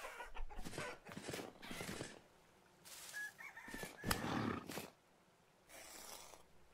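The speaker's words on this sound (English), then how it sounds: "there's a lot of chickens around here" Chickens and roosters in the video game Vintage Story cluck and crow in bursts near and farther off, mixed with rustling movement and a few brief tonal chirps.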